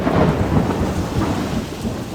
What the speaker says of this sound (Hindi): और बारिश होने लगी। अरे नहीं, बारिश हो रही है।